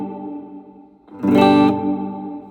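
Guitar played through an M-VAVE Mini Universe reverb pedal set to hall, a sustained chord swelling into a bright burst of spacious reverb that lingers and slowly decays, with no talking.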